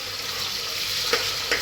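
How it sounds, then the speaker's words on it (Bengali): Garlic paste going into browning onions for beef biryani, heard as a steady, fairly loud sizzle with two short stirring scrapes near the end. "এখন রসুনের পেস্ট দিয়ে দিচ্ছি।"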